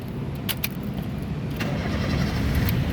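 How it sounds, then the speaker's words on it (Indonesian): A 2008 Honda Jazz 1.5 VTEC Sports automatic hatchback starts up close by: a few sharp clicks from the starter give way to a steady, low engine rumble that runs throughout, with no voices. "Jika kita pastikan sudah aman, nah berikutnya coba kita nyalakan mobil."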